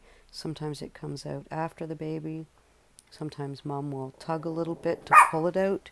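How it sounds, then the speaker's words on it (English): A pet dog barks briefly in the background of a home while a person keeps talking over it; the barking is faint and mostly buried under the speech. "That was just my dog barking."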